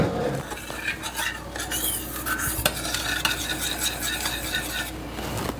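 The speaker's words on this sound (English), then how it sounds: "all the sugar and everything is incorporated and mixed in real well" A utensil stirs a sugar and jelly glaze in a pot on the stove, scraping and clinking steadily against the metal over a soft continuous sizzle, close and fairly loud, with no voices.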